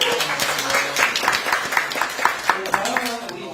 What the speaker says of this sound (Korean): 큰 박수 맞으시고요